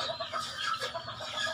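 Chickens cluck beneath a table in a rural home, a close run of short, throaty clucks and soft chatter heard clearly over a quiet background.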